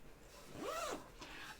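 A zipper on a sewn tote bag is drawn in a single smooth, quiet pull close by, followed by a soft second rub of fabric.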